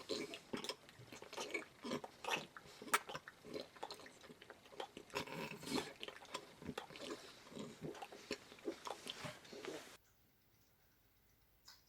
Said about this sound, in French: Coupez le carton de la boîte à gants en 3 et chacun mâchouille un morceau.